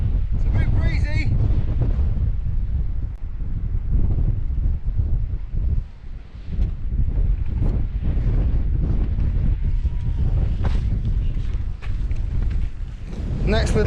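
Gusty wind roars and buffets while hiking along an exposed ridge, loud and continuous with rising and falling surges, heavy microphone buffeting, no clear talk.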